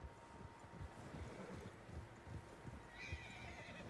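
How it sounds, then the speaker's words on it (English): Several horses in Red Dead Redemption 2 whinny and neigh over a steady run of clip-clopping hooves, with wind noise behind them and a higher whinny near the end. "Horses, quite a few of them."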